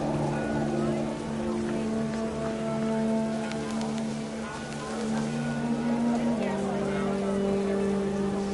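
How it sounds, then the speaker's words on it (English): Dense, steady heavy rain in What Remains of Edith Finch hisses continuously at a loud level, with a low sustained drone and a voice talking over it. "Rain came down in buckets then"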